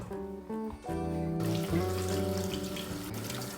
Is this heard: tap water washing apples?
yes